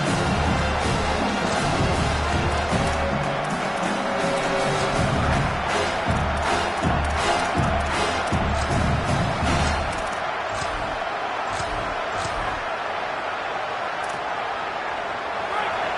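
Football stadium crowd at a Georgia game, a steady broad roar that stays loud throughout, with a commentator talking over it.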